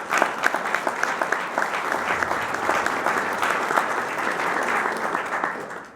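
Steady applause from an audience at the UBA Hall of Fame 2017 ceremony honoring Kent, dense clapping sustained for about six seconds before fading out at the end.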